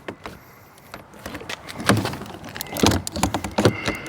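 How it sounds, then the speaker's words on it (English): A travel door being popped out of a Flagstaff MAC 176LTD folding pop-up camper, heard as a close run of knocks, plastic clunks and rattling thumps that grow busier toward the end, with no speech. "take this travel door and pop this out"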